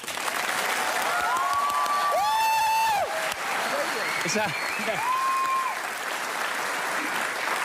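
A studio audience applauds and cheers loudly for guest Derren Brown, with clapping sustained throughout and whoops rising over it, while people talk above the noise toward the end.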